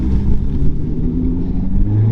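A Mitsubishi Evo 3 fitted with a Wilwood big brake kit revs its engine as it drives off, a steady, loud, low rumble with a brief rise in pitch near the end.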